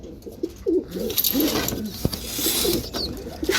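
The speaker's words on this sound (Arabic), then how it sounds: "دكر بلاك محترم من حمام حد برضو جامد اوي في البلاكات" Domestic pigeons in a loft coo repeatedly, soft low throaty calls close by, with rustling, scraping and a brief sharp knock mixed in.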